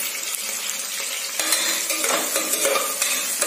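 Onions fry with rock salt in a pan, giving a steady close sizzle under intermittent scraping and clinking as they are stirred.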